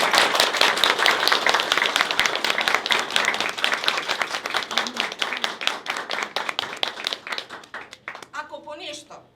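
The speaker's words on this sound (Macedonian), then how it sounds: "Сакам еден аплауз за нив." Audience applause for children at a kindergarten performance, many hands clapping steadily and then thinning out, with an adult voice speaking at the end.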